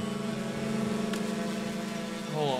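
Car engine in the video game Half-Life 2, a steady droning hum with a brief whine near the end, loud and close, with no talk over it.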